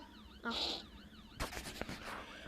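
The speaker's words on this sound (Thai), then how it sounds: "ทำไมแกถึงได้ยินรถเสียงรถตำรวจ" A police car siren wails in short warbling sweeps, fairly faint, interrupted by louder bursts of other sounds partway through.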